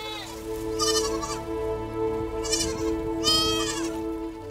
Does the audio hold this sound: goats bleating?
yes